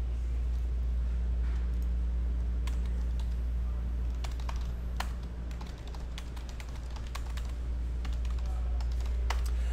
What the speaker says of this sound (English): I'll type all these hits in just a little bit.